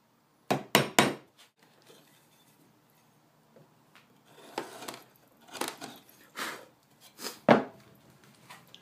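Short, sharp knife jabs into the bowl of a wooden spoon being hand-carved, a quick cluster of three cuts, a pause, then several more scattered woody taps and scrapes, close and fairly loud.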